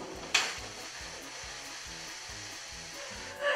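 A Magic Bullet blender whirs through a celeriac puree with honey and oil, a steady mid-level motor drone throughout, with sharp clattering bursts near the start and end as the cup is shaken.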